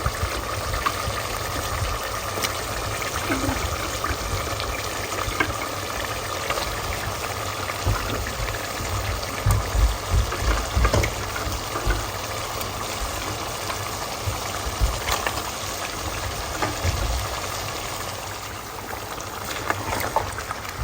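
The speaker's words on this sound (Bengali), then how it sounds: "এখানে মিটটাও ধুয়ে রেডি করে ফেলছি" Tap water runs and splashes steadily as raw meat is rinsed in a home kitchen, a loud continuous gushing broken by occasional louder splashes and handling noises, with no speech.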